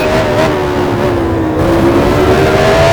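Engine of an F1 car in the F1 Challenge racing game, 1983 French Grand Prix, holding a steady high-pitched drone as it drives into the pits, loud and continuous throughout with no talking.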